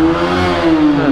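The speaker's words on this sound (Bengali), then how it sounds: "স্টার্ট দেওয়ার পর আমি ফুল থ্রোটল দিব বাইকটাতে।" A motorcycle with a clutch plate problem revs loudly at full throttle, a steady strong engine drone with a rising pitch, close and alone without talk.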